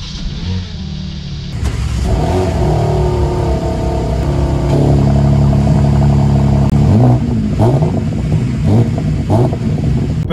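A BMW M3/M4 Competition cold start with open exhaust: a starter crank, then a loud, close engine firing up into a rough idle that rises and settles, with brief revving flares.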